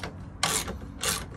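A ratchet tightens a bolt on a rear ladder of a Ram ProMaster Class B motorhome, making two separate quick clicking bursts close to the listener.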